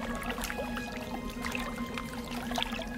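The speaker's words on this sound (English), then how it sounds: "Ah, what a relaxing sound. This is the healing spring." Healing spring water in the game The Gate flows steadily with soft trickling and splashing over a constant low hum, alone without voices.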